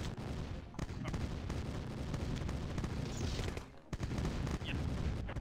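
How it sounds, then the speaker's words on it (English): Many tank shells firing at once in the Command & Conquer video game on N64, a loud continuous barrage of booming shots with a short dip near the middle. "I love the combined sound of a dozen tank shells firing at once."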